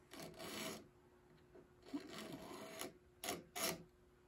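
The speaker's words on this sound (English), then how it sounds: "And I'll take a little chisel like this. And right in here. Scrape the finish off carefully." A small sharp chisel scrapes old finish off the woodwork of an 1867 Chickering 33B piano, giving several short raspy strokes in separate bursts, close and fairly quiet.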